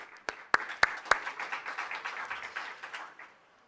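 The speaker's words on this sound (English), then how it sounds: "So big applaud for her." Conference audience clapping, starting with a few sharp, distinct claps that merge into a short burst of moderate applause and then fade quickly, heard from a distance in a hall.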